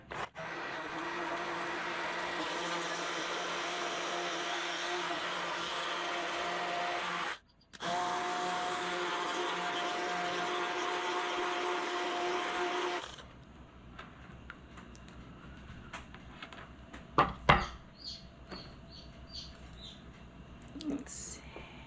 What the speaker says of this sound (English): All right, let's blender.